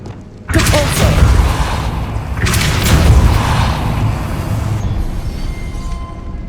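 The Depulso force spell cast in the video game Hogwarts Legacy lets out a sudden loud booming blast, followed by a second surge and a long rumbling, crackling tail that fades slowly.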